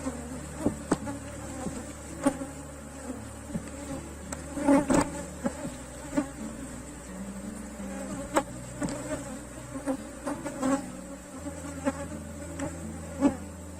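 Honeybees buzz densely around a brood frame lifted from a hive box, a continuous close hum with individual bees zipping past the microphone now and then, and no talk.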